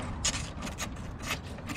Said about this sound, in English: he's getting the last bolt out of the cover right now